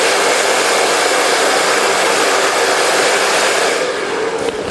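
Hair dryer blowing steadily and loudly up close while styling hair with a round brush for an in-turn blow dry on a razor or feather haircut, a constant whoosh with no talk.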